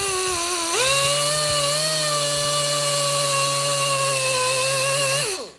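A rotary polishing mop works on a Honeywell Turbovisor: a motor whines up quickly to a steady, high, tonal spin, holds it for several seconds, then winds down at the end.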